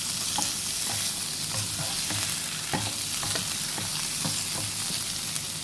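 Shrimp stir-fried with garlic and fresh chili in a hot pan, a constant bright sizzle with repeated scraping and tossing strokes from the spatula, close and steady, no speech.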